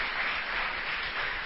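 A church congregation applauding the Lord during a Portuguese sermon, a steady wash of clapping at moderate distance.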